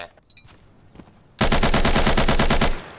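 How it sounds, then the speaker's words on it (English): A loud, close burst of automatic gunfire in the video game Insurgency rips out steadily for about a second and a half after a quiet stretch of faint background sounds. "Somebody's firing at me."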